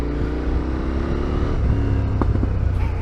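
A cold motorcycle engine revs and burbles on the move, its pitch climbing and then settling, with a few short pops and crackles near the end, loud and close without talk.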